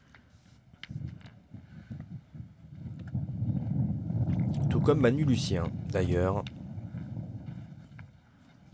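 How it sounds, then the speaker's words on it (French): Gusty outdoor wind buffets the microphone during a Masters pétanque semi-final at Wissembourg, a low rushing roar that rises and falls throughout while a commentator talks over it. "On entend bien le vent là."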